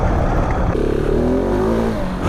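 A 2019 KTM 690 Enduro R single-cylinder motorcycle engine revs loudly off-road, rising sharply in pitch as it pulls hard and then holds, close up, with no speech.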